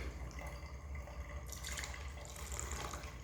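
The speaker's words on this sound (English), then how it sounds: "Rinse this off real quick." Water from a tap runs steadily as pour-over coffee gear is rinsed under it, a close continuous splashing that grows brighter partway through, with no speech.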